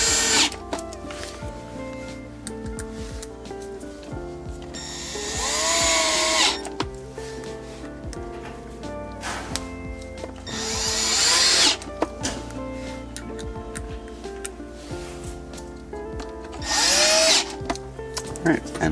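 A power drill drives four screws into the OEM subwoofer mount of a Lexus LX, with several loud, close whirring bursts of a few seconds each, separated by pauses while someone talks.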